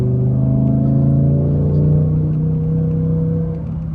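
Audi R8 Performance engine holding steady high revs in S mode, a loud, continuous droning hum that stays level and close throughout, easing slightly near the end.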